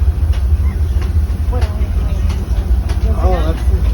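Disneyland steam train Fred Gurley No.3 departs Toontown, a loud rumbling engine and rolling rail noise carrying throughout, with brief whistle tones rising over the din.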